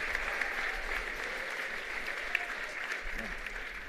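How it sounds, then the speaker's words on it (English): Audience applause for a bassist's solo at a college jazz ensemble performance, a dense, steady wash of clapping sustained throughout, fairly distant and even in level. "How about a hand of applause? Round of applause."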